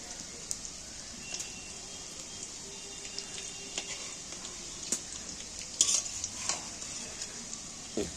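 Fish roe fritters crackle and sizzle quietly in a pan while they are turned one at a time, with soft scrapes and a light clink of the spatula over the steady hiss.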